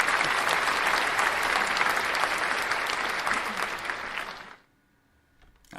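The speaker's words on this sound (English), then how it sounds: "I figured the applause was all right." Canned applause sound effect triggered from a soundboard during a live trading stream, a steady burst of crowd clapping lasting about four and a half seconds that fades out into near silence.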